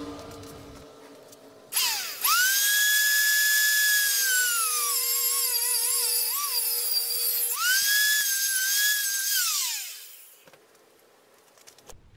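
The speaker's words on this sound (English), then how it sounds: "I rounded off the edges here with the grinders." A handheld grinder rounds off the edges of a metal part for a Sur-Ron Light Bee controller kit install, spinning up with a loud whine, cutting in two long passes with pitch dips, then winding down to quiet.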